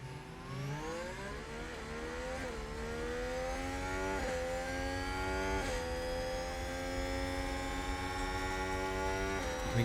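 Formula 1 race car engines in the F1 Manager 2022 video game, racing at Miami with a McLaren: a steady high whine whose pitch climbs and drops with each gear change, fairly faint and continuous throughout.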